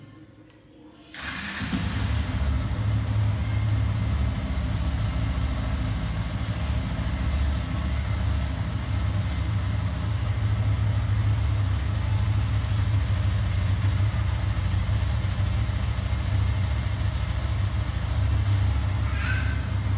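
A motorcycle engine catches after a brief quiet moment and settles into a steady, close, continuous idle that drones on unbroken.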